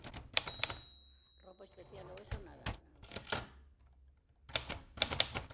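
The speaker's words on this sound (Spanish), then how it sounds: "Ángel Álvarez, el padre de Mercedes, está sentado frente a su máquina de escribir mientras fuma un cigarrillo" A manual typewriter tapping out a letter, bursts of sharp rapid keystrokes with a pause in the middle, close and crisp, while a voice speaks softly in between.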